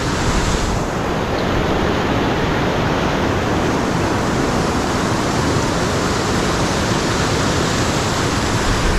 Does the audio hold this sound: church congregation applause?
no